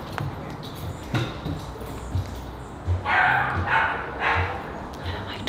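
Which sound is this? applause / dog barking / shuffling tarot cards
dog barking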